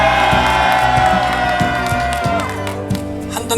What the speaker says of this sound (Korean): 함성 저쪽으로 발산해 주십니다. 함성!